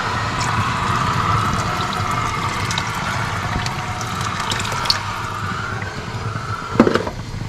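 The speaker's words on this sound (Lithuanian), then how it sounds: "Pilam šiek tiek vandens." Water pours steadily into a stew pot of beef shank osso buco with wine and tomato juice, a continuous close splashing stream with a brief clink near the end.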